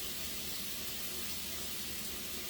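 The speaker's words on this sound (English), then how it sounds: "You want a gentle sizzle," Chopped onion and garlic sizzle gently in a pan for chicken and rice soup, a soft, steady, even hiss throughout with no other sounds.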